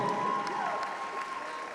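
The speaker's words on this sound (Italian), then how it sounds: "e allora un grande applauso per l'MVP di oggi, Emma Gemma Daidone." Spectators applaud the MVP after a women's basketball game, continuous crowd clapping with a light cheer and a thin whistle-like tone, steady and fairly close throughout.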